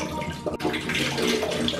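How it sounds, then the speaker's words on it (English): A hot water tap on a refurbished faucet runs with a steady rushing flow, sputtering and spitting as air is pushed out of the pipe. It is close and continuous, with a brief dip partway through and no talking. "Oh, there is still air in the pipe. Adjust the water a little bit to expel the air."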